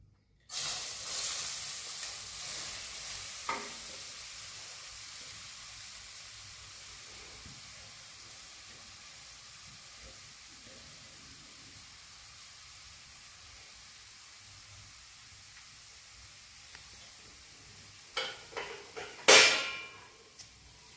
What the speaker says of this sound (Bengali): এবার এই ঘিতেই আমি এবার গাজরটা দিয়ে দেবো।